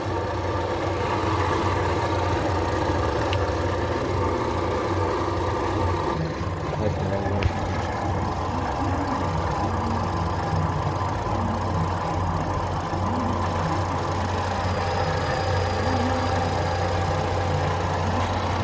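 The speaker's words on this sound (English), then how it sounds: "Now you can even hear the engine stabilized. It's running smooth right now, really smooth, and it quit surging." A 2014 Ford Fusion engine idling smoothly with an aftermarket alternator, a steady low mechanical hum and whir that holds an even level throughout, close by, with a faint click partway and no voices.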